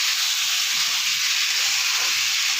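Ground ginger, green chilli, tomato and cumin paste sizzles and hisses steadily in hot oil as it is sautéed, a loud, continuous broadband fry with no talk.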